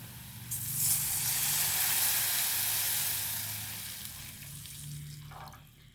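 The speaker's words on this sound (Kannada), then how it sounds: "ಇದಕ್ಕೆ ನಾನು 1 ಗ್ಲಾಸ್ ನೀರು ಸೇರಿಸ್ತೆ." A glass of water is poured into a hot pan of Maggi noodles, bringing a loud, bright sizzling hiss that swells quickly, holds for a few seconds, then fades away.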